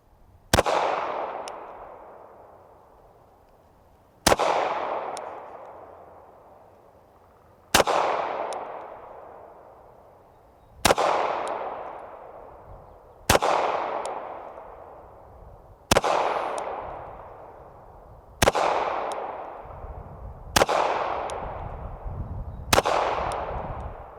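Nine sharp, loud pistol shots from a Smith & Wesson Bodyguard 2.0, fired at a target 12 yards away, spaced about three seconds apart, each followed by a ringing echoing decay.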